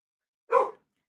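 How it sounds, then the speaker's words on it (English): One brief bark from a dog, faint and alone, with silence before and after. "Okay, dogs are barking."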